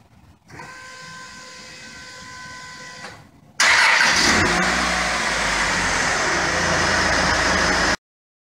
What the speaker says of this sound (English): This is the box that I'm using to make the car start.